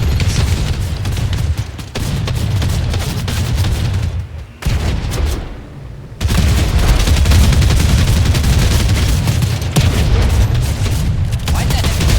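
Rifle gunfire in a video game comes as dense, loud, almost continuous booming bursts with brief gaps, and a voice talks over the action.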